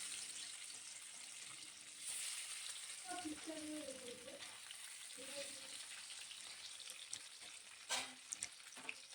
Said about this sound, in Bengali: তেল গরম হয়ে গেলে একে একে আমি মাছগুলো দিয়ে দেবো।